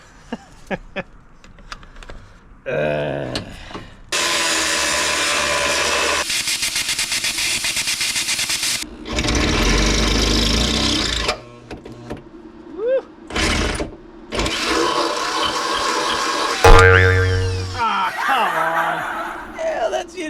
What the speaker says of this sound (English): I'm just gonna cut that off, flush right here, and jump right to the plasma cutter